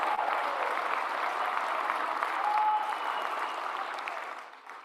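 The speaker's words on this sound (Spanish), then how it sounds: "Un gran aplauso a todos y a todas." An audience of legislators claps in sustained, even applause that holds steady for several seconds and then tapers off toward the end.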